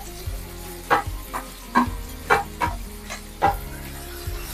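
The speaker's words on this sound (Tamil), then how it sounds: "வெங்காயம் நல்லா வதங்கணும்" Small shallots sizzle steadily in a hot pan while a utensil stirs and scrapes against it in regular strokes, close by.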